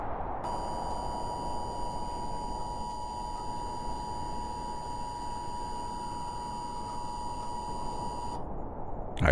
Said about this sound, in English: the grating beeps of the statewide emergency alert system